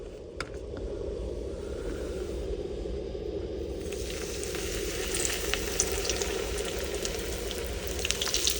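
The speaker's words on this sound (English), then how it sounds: "I'm gonna drop this in the oil" A5 Wagyu beef sears in hot oil in a pan, a steady close sizzle and crackle that grows a little louder and brighter halfway through, with no talking.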